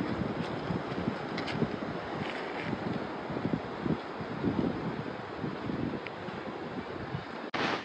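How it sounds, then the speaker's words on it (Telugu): Wind and surf roar steadily on the beach at Morjim in Goa, a dense, continuous wash of waves and wind buffeting the microphone, with no voices. "బీచ్ అనమాట ఇది"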